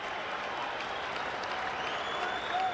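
A large ballpark crowd at a Cubs–Phillies baseball game in 1996 cheers and applauds steadily, a dense, continuous roar of clapping and voices from all around.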